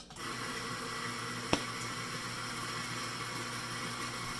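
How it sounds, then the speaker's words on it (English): A Eureka Mignon Specialita coffee grinder running, a steady close motor whir with one brief click partway through, no talk. "The grinder is really quick compared to something like a Mazzer Mini"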